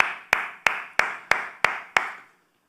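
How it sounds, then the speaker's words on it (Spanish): Six sharp, evenly spaced claps ring out in a steady rhythm, each with a short decaying tail, alone and fairly close, then stop. "Dale un fuerte aplauso a aquel que vive por siempre"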